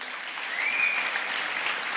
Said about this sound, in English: I think we should clap for the team that was here